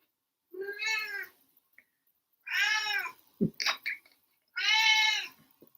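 Cat meowing at a closed door, three long, clear meows spaced a second or two apart, close and alone, with a few small clicks and rustles between them.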